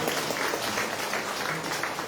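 Steady applause from a lecture audience in a convention center, a dense continuous patter of many hands clapping at even loudness throughout, with no voices over it.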